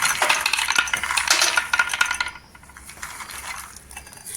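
Peanuts pour into a mixer jar already holding chillies, cumin, garlic and coriander, rattling in a dense, loud clatter for about two seconds before trailing off into scattered light taps.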